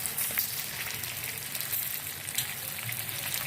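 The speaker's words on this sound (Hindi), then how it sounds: "अब इसमें जो हमने हरी मिर्चें भरी थी वो इसमें ऐड करेंगे और इनको फ्राई कर लेंगे हम" Stuffed green chillies sizzle and fry in hot oil in a pan, a steady close crackling hiss with small spitting pops throughout, no talking.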